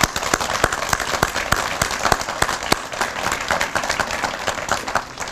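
A crowd at a Veterans Day ceremony applauds veterans with loud, crisp clapping, individual claps standing out sharply over a continuous wash of hands, sustained for the whole stretch.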